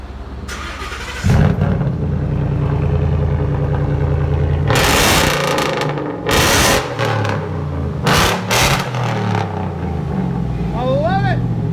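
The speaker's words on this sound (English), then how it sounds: "2015 F-150 straight pipe. It is sickeningly loud." Straight-piped 2015 Ford F-150 with a 5.0L Coyote V8 and Y-pipe setup, loud engine starting and idling, then sharp revving bursts close by, with voices talking over it.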